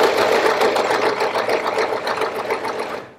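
A serger running a 4-thread safety stitch whirs steadily and fast, with a dense, continuous mechanical chatter close by for about three seconds, fading at the end.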